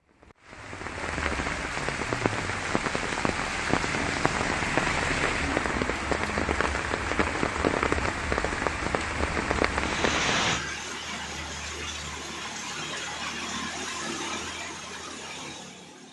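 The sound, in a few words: heavy rain falling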